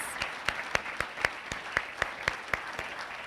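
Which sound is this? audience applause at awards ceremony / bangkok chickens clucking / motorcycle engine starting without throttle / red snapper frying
audience applause at awards ceremony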